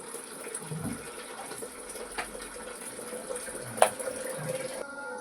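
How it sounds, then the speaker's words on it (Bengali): Water is poured into a pot of Gobindobhog rice for polao, a soft, fairly quiet trickling fill that lasts a few seconds and ends abruptly. "এবার আমি এতে পরিমাণ মতো জল দিয়ে দেবো"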